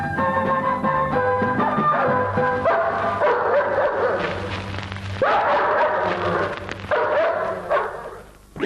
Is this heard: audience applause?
no